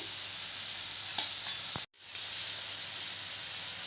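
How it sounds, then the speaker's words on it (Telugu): Onions fry in a pan with turmeric, giving a close, steady hiss and sizzle broken by a spoon scrape and a brief clatter, then a short drop before the sizzle resumes, with no voices. "ఆనియన్స్ని ఫ్రై అయ్యేలాగా మంచిగా మిక్స్ చేసుకోవాలి దానిలో కొంచెం పసుపు"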